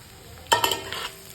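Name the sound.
stirring frying food in a pan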